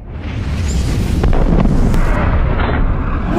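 Vepr 7.62x54R rifle with a 16-inch barrel fired outdoors at a range, a loud sustained blast and rumble filling the whole moment with heavy low-end roar and wind buffeting, no distinct separate shots standing out.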